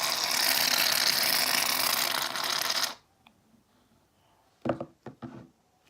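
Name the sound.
shaving cream dispensed from a can for fluffy slime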